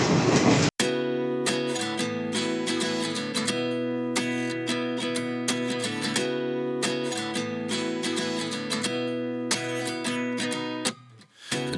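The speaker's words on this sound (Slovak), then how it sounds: "Takto sa cestuje turistickým vlakom na Srí Lanke." A tourist train in Sri Lanka rolls along the rails with a steady rhythmic clatter of wheels over track joints. The rumble is loud and close, with no talking.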